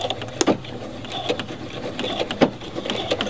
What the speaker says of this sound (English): I'm going to sew the top edge of my lace here using a regular stitch.